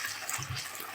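Boiled water poured into a pan of cooking chicken liver, a brief steady splashing pour heard up close.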